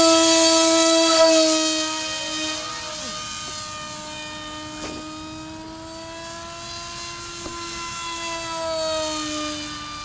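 An RC foam fighter plane with a 2200 kV motor, 6.4 prop and 3S LiPo battery whines loudly overhead, its pitch rising and falling as it passes, with no talk.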